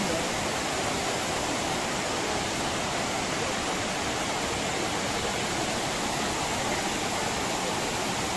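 Near a waterfall at Courtallam, rushing water roars as a constant, dense broadband wash, loud and unbroken throughout with no voices.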